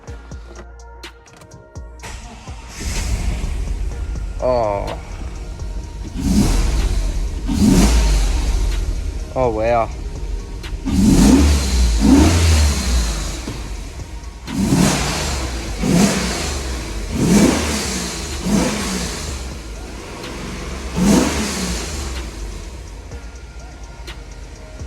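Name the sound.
car engine starting and revving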